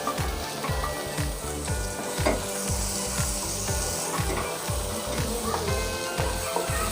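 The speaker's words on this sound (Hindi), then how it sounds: "प्याज हल्का सा कलर लेने लगा है, डाल लेंगे 1 मीडियम कटा हुआ टमाटर।" Chopped onion and tomato frying in a pan for one-pot spinach rice, a steady close sizzle with repeated scraping strokes of a spatula stirring the mixture.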